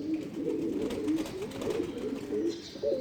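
A dove, the ghughu bird, calls on a cold winter morning from a rooftop where pigeons peck at scattered food, its low repeated coos rolling steadily through the clip against a soft outdoor background.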